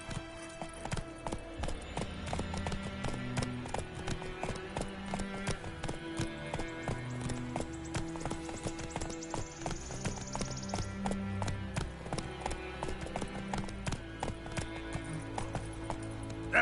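Roach, a horse in The Witcher 3, gallops steadily with rapid, rhythmic hoof clip-clops over game music, close and continuous, with a brief whinny.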